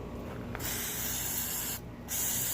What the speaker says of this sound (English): I'm gonna use some of this now, instant parts cleaner